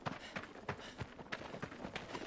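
Horse hooves gallop in the video game Shadow of the Colossus, a quick, even run of soft thudding beats repeating through the whole stretch at low volume.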